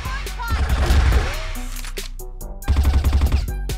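M4 rifle gunfire in a video game, two clusters of fast, sharp automatic shots separated by a brief lull, close and loud, with a voice talking alongside.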